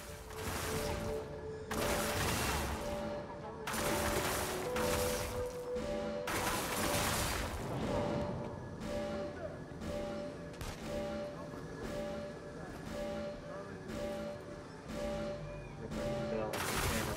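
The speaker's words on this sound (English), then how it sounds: "The barrage will take down the DUP tanks in 1 or 2 hits." Rapid bursts of video game gunfire in inFamous Second Son, a barrage pounding tanks, with dense repeated blasts and explosions in long loud volleys separated by brief gaps.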